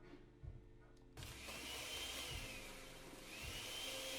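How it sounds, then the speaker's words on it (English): A blender whirs in the video game Echo, starting after a short quiet stretch and then running steadily and fairly loud, with a few soft low thumps underneath. "Oh yeah, authentic blender sounds."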